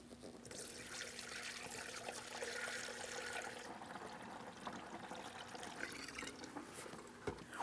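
Coolant pours steadily through a funnel into the reservoir of a 2007–2014 Ford Edge 3.5L, a soft continuous trickle and gurgle heard close and fairly quiet, with no voices.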